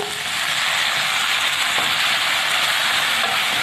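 Vinegar poured onto hot peppers sautéing in a pan sets off a loud, steady, broadband hiss that fills the whole stretch without pause, close and with no talk.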